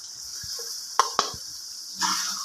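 Green chilies, garlic and ginger sizzle in oil in a karahi, a soft continuous hiss punctuated by a couple of sharp metallic clinks of a spoon against the pan.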